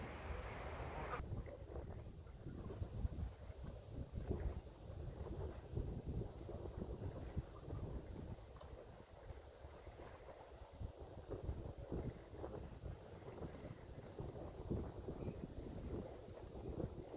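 A boat cruises toward Kingston, Ontario, its hull noise and water rush mixed with heavy wind buffeting the microphone, a continuous rough rumble that stays fairly even throughout.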